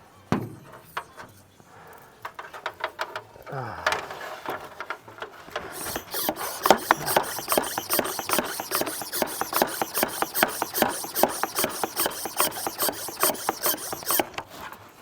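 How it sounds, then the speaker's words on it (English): Abrasive grinding on a truck body during acid-bath paint stripping, starting sparse and uneven, then becoming a steady dense rasping scrape with rapid repeated strokes from about six seconds on, close and moderately loud. "just keep grinding here"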